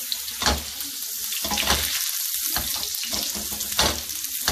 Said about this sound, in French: maintenant on va faire revenir les champignons